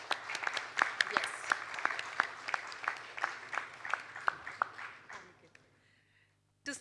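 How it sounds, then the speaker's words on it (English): A conference audience applauds in scattered, rhythmic claps at moderate distance. The clapping gradually thins out and fades to near silence. "Can we have a louder applause, please?"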